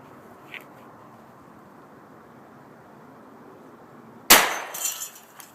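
A single sharp, loud gunshot from a Hi-Point pistol fired at a flak vest cracks out after several seconds of quiet background, followed by a brief ringing decay and faint rattling.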